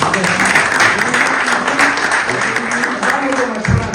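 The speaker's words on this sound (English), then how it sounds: "let's give India a round of applause as well" A crowd claps and cheers at a community celebration in Raleigh, North Carolina, a dense, steady wave of applause lasting several seconds, with voices mixed in underneath.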